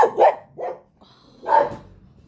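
A dog barks indoors, several sharp barks close by in quick succession, then one more after a short pause, with no talking over them.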